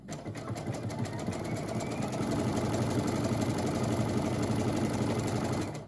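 A sewing machine stitches a curved seam under the arm of a Vogue 1835 garment, a steady rapid mechanical whir running continuously at close range with no talk.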